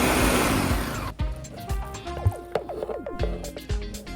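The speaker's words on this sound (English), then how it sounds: "Add 1/4 cup of walnuts and grind to a coarse thick paste." A food processor grinds oats and walnuts into a coarse paste in a loud whirring burst for about a second, then cuts off, leaving clattering knocks and small mechanical rattles.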